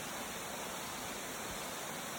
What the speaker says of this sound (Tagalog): Pagkanindot paminawan ninyo ang tingog sa tubig, grabe ka relaxing